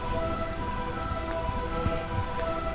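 Constant rain falls in the eternally rainy kingdom of Burmecia in Final Fantasy IX, a soft, even patter on surfaces heard under a faint humming game backdrop, with no voices.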